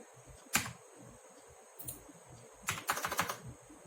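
Computer keyboard typing while filling in an online application form for a GDCE Goods Train Manager exam: quiet, close keystrokes arriving in short scattered bursts, with a denser run of rapid taps near the end and no talking.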